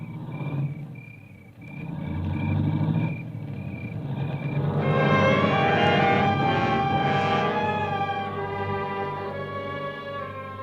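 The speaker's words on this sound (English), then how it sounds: "I heard the car leave" A car starts up and pulls away as a sound effect in an old-time suspense radio drama, a low engine rumble swelling into a steady drone that holds to the end, with no talking.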